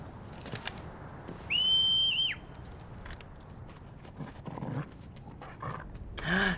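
A dog companion in the Final Fantasy XVI video game pants and whines, with a sustained whistle-like tone partway through and scattered game sound effects around it. No voices are heard.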